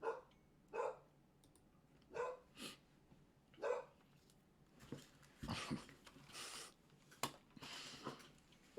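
A dog barks several times in separate sharp bursts at a moderate distance, with scattered clicking and faint background noise between them.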